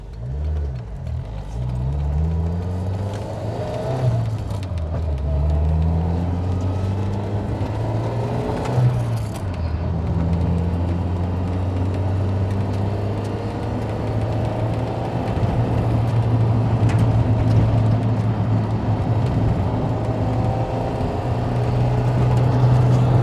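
Toyota AE86 Corolla with a 4AGE engine and six-speed gearbox driving a mountain road; the engine drones loudly and steadily from inside the cabin, pitch climbing and dropping through gear changes, with rattles mixed in.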